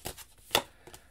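A tarot deck being shuffled by hand gives off a few quick, soft papery bursts of cards riffling against each other, separated by short pauses, fairly quiet and with no voices.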